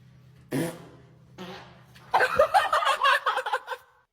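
A playful fart sound played in a string of guessing games, two short bursts followed by a louder, fluttery, rising-and-falling run of several quick pulses lasting about two seconds, close and fairly loud with no talk over it.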